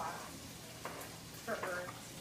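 Hot sauce being stirred in a pan gives a low steady sizzle with a few soft scrapes, faint and close, brief and without a clear voice.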